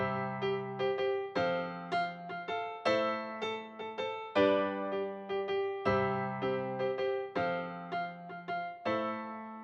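Acoustic piano chords from the Purity plugin in FL Studio, played as simple sustained block chords in a steady repeating pattern for an R&B hip-hop beat, clear and alone with no voice.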